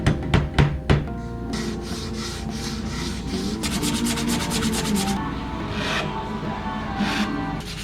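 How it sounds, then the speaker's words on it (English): Steady, close rubbing rasp of sandpaper worked along the edge of a wooden 2x12 board to even it with surrounding trim, preceded by a few sharp knocks, then continuous back-and-forth sanding strokes with no talking. "I had to do lots and lots of sanding to get the edge of the 2x12 even with the edge of the trim"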